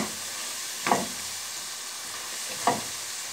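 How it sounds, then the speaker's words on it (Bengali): Spices for a rui fish curry fry in hot oil in a pan, giving a continuous soft sizzle broken by two brief scraping stirs of a spoon, close up with no talk. "এক মিনিটের মতো আমি কষাবো এটাকে।"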